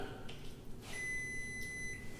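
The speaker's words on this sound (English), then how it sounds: "Oh, and that's the timer." A kitchen timer beeps as a Danish pastry finishes baking, a steady high tone starting partway through and holding with a brief break, fairly quiet over low room noise.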